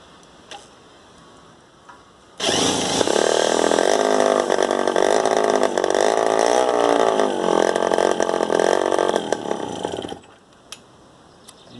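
A hybrid moped engine idles after a carburettor adjustment, starting abruptly, running loud and buzzy with a slightly uneven, wavering pitch for about eight seconds, then cutting off into quiet.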